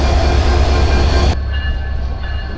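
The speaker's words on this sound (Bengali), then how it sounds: "আমাদের ট্রেনটি কমলাপুর স্টেশন থেকে এখন ছেড়ে দিচ্ছে।" Locomotive 6633 pulls a train out of Kamalapur station in Dhaka with a loud, steady rumble of engine and rolling stock. Partway through, the higher noise drops away and a lower drone continues.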